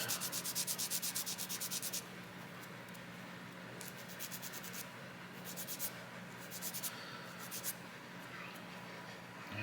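A nail file sanding a sprue nib off a small plastic model part, with quick close rhythmic rasping strokes in repeated bursts and quieter pauses between.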